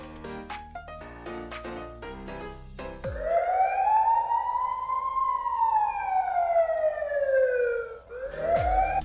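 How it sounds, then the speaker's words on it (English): Quick electronic beeps give way to a loud wailing siren that rises and falls in one slow sweep, then starts again, like a toy police car. "You can change this to police car sound by plugging this plug on the top one."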